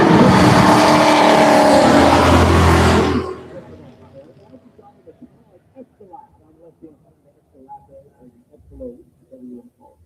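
A Cadillac Escalade and a Ford Ranger drag race at a racing event, with a loud, close roar of engines at full throttle for about three seconds before cutting away to faint crowd noise and talking voices.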